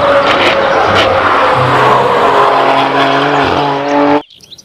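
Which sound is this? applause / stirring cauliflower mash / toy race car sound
toy race car sound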